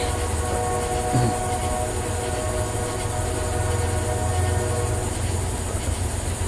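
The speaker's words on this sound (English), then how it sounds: "Anyway, we have a train, so that's much more important" A train passes, a loud continuous rumble and grinding drone of rail cars close by with a steady high whine on top and brief horn-like tones, no talk over it.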